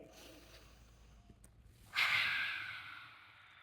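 A slow yoga inhale, a soft steady airy breath that swells suddenly and then tapers off over a couple of seconds, close and quiet with no talking.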